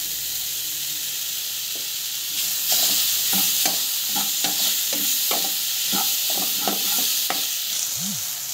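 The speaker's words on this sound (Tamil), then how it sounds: "போட்டுட்டு நல்லா வந்து வெங்காயம் நல்லா வந்து வதக்கிக்கலாம்" Onions sautéing in a pan for avalakki upma, a bright steady sizzle that swells partway through, with repeated close spoon scrapes and taps as they are stirred.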